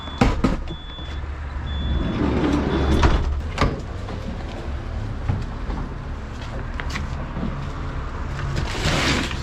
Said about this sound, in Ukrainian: Двері працюють, автоматично закриваються, відчиняються.